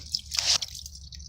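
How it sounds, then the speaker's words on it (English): Water poured onto a corroded car battery terminal fizzes and sputters in a short, close burst of wet crackling that swells briefly and then settles into a faint hiss. "See how she's fizzing up? It'll eat away at that corrosion."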